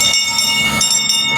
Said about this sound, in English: Tiny train!